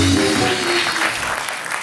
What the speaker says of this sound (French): Applaudissements pour Carla, c'est normal.